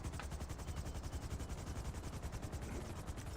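Rapid automatic gunfire in a video game, a dense continuous burst of shots lasting throughout, loud and close with no talk over it.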